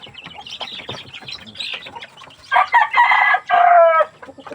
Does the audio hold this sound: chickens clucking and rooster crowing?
yes